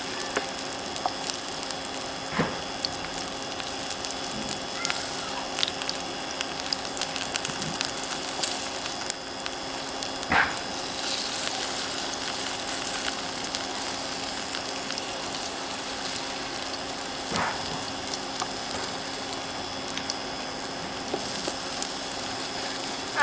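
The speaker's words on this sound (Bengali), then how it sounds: "এবারে উল্টো পিঠ ভেজে নেব বড়ার উল্টো পিঠগুলো ভেজে নেব" Spinach kofta fritters fry in hot oil, turned over to cook the other side, giving a steady, close crackling sizzle with scattered pops that runs unbroken throughout with no voices.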